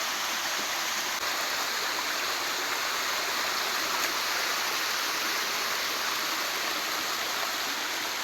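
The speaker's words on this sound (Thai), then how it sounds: "ตาดค่อนข้างสูงนะทุกคน" A tall waterfall pours into a jungle stream in dense forest, a constant loud, even rushing roar of falling water heard close with no voices.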